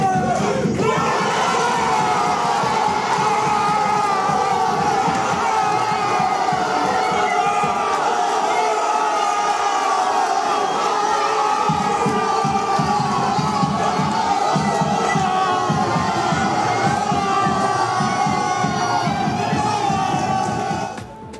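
Moroccan football fans in a café in Brussels celebrate a World Cup win over Belgium with loud, continuous crowd cheering, shouting and chanting, a dense roar of many voices lasting throughout.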